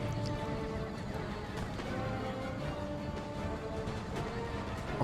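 Cavalry horses neigh and whinny during an Empire: Total War battle, with several calls rising over a dense, steady wash of hoof clatter and combat noise.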